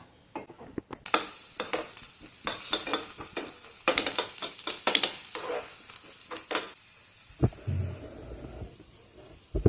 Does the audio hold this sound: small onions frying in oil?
yes